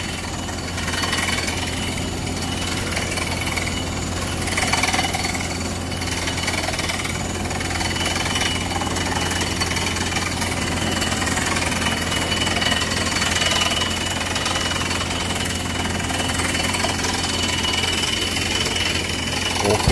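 A groundwater well drilling rig pounds and rumbles continuously, with a heavy engine drone and rapid knocking vibration throughout.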